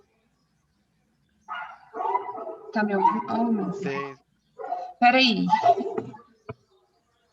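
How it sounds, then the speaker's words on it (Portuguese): Pet dogs barking indoors during an online tutoring session, several yapping barks mixed in with someone speaking close to the microphone, with sharp bursts between stretches of silence. "meus cachorros estão atrapalhando"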